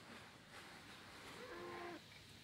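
A cow in the Minecraft video game lets out a single drawn-out moo, faint and short against low background noise.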